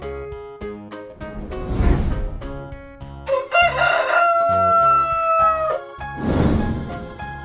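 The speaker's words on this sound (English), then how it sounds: "Rooster." A rooster crows loudly, a long rising and falling cock-a-doodle-doo over a bouncy instrumental tune, with other shorter bursts of sound around it.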